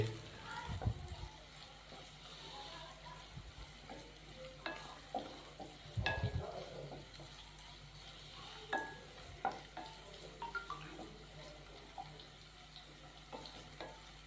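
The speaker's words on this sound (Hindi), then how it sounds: "तो यहाँ पे हम सब्जियों को फ्राई कर लेंगे, हल्का सा नरम कर लेंगे" Vegetables for white sauce pasta stir-fry in a pan over medium-low heat: a quiet, continuous sizzle broken by intermittent spatula scrapes and knocks against the pan.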